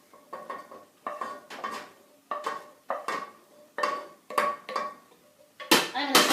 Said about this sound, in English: So I'm just going to put those mushrooms in.